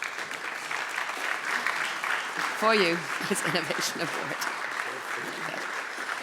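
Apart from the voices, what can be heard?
audience applause at award ceremony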